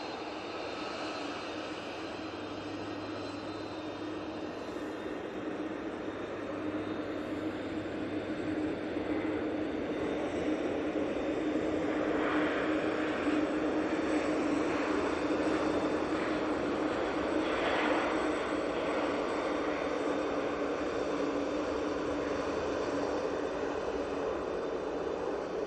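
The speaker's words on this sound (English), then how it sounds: "the Etihad 777-300 coming in from Abu Dhabi" An Etihad Boeing 777-300 airliner arrives from Abu Dhabi at Manchester Airport, its engines a sustained broadband roar that swells in the middle and lingers, heard from a distance without speech.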